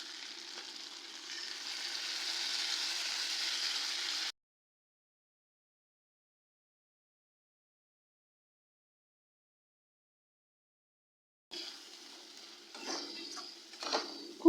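Masala stir-fried with mutton in a pan for a kaliya made without onion, a loud steady sizzle for several seconds, then silence, then quieter sizzling with scraping stirs.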